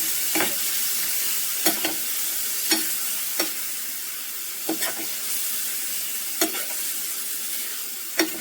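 Boiled beef liver being stirred in a hot pan for a pepper fry: a steady sizzle runs throughout, broken by about ten sharp, close spoon scrapes at an uneven rhythm.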